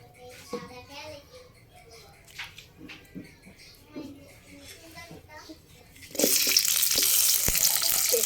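Oil in a pan for frying pumpkin breaks into a loud, steady sizzle partway through, after a stretch of quieter kitchen sounds and talking.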